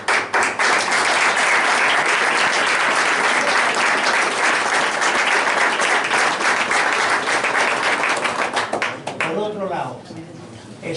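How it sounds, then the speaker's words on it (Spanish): Audience at a book presentation breaks into loud, sustained applause that fills the room, then thins out near the end as a voice begins speaking. "Y yo por eso le pido un fuerte aplauso para ellos."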